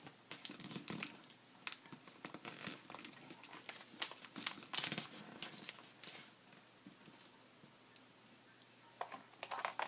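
Paper bag being folded and creased by hand for a mini album, giving soft close crinkles, rustles and scattered crisp taps, fairly quiet with no talk.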